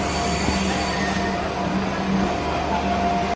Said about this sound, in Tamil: விஜயபூர் மங்களூர் ரயில்வே வந்து ஒன்று வந்துட்டு இருக்கு உள்ள.